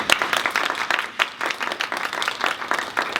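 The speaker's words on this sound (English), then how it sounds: "Can we give them all a round of applause?" An audience claps in applause at a menopause health event, a dense, steady patter of many hands that holds for a few seconds without a break.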